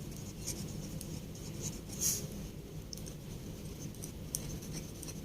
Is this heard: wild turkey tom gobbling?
no